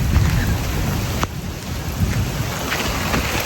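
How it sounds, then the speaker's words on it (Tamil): Heavy rain pours steadily in a dense, close wash, broken by a low rumble of thunder and a sharp crack partway through, with no voices. "மழைங்க, சரியான மழைங்க,"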